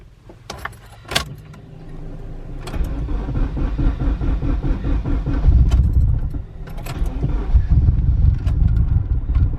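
A Honda K20-powered Integra Type R, locked in high cam, cranks and catches, then settles into a loud, uneven idle with a lumpy, hunting rhythm; keys jingle briefly near the start.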